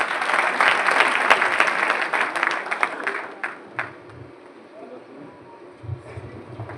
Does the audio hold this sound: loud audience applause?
yes